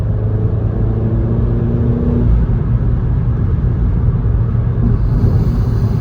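A Renault Megane RS hot hatch being driven hard gives a loud, steady engine drone with a deep rumble, and the pitch shifts slightly midway as the revs change.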